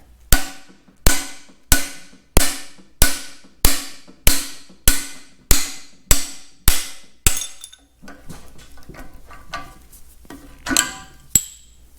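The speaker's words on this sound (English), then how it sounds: "now we'll use the driver to drift that bushing out" Steel driver hammered to drift a bushing out of a Farmall tractor's front bolster: about a dozen sharp, evenly spaced metallic strikes up close, then scattered lighter clinks and shuffling as the part loosens.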